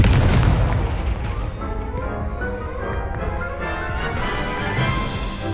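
A Confringo fire spell explodes in Hogwarts Legacy with a loud, close boom that rolls off into a rumbling burst and a crackling tail, alone with no talking.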